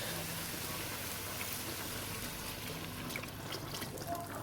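Stock pours steadily into a pan with a continuous splashing, trickling wash, fairly close and uninterrupted.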